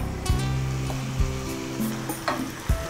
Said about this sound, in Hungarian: Sül, szépen elkezdett sercegni a szalonna.